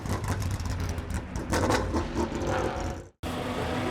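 Race car on a practice lap around a track, a loud, dense engine roar close by that holds steady and then cuts out briefly before resuming.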